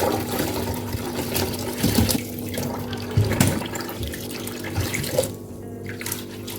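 Cold water runs from a kitchen tap over parboiled rice held in a sieve as the rice is washed. The splashing is steady and close, with a few brief clunks and sloshes.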